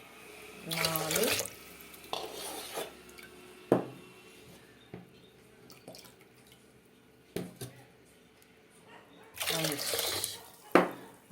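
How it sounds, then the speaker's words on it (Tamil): Water poured from tumblers into a cooking pot for sweet pongal, with splashy pouring bursts separated by quiet gaps and a few clinks, under a voice counting in Tamil. "இப்போது 5 டம்ளர் தண்ணி ஊற்றலாம்."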